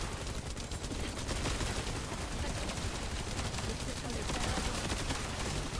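Rapid gunfire at maximum fire rate in a shooter game, a dense unbroken rattle of shots that stays level and fairly quiet throughout, no pauses.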